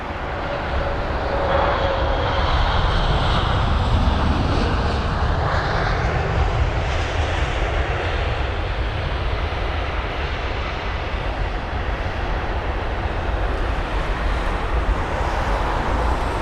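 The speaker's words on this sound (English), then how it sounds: "This is BA274, the British Airways A350-1000 with the reg Golf X-Ray Whiskey Bravo Oscar" A brand-new British Airways Airbus A350-1000 arriving at London Heathrow on landing, its loud steady jet roar sustained throughout with a slowly shifting engine whine as it passes, with no voices.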